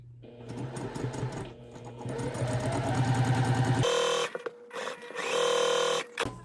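A sewing machine stitching a quilt block for a flowering sampler quilt, a steady close motor hum with rapid needle clatter that runs unbroken for about four seconds, then stops and restarts in two shorter bursts.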